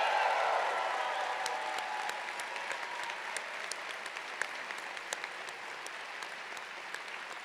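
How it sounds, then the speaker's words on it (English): Sustained applause from a large audience honoring graduates at a university convocation in a ballroom, a dense, even wash of clapping that gradually eases off, with a few sharper nearby claps standing out. "let's have one more round of applause for our graduates."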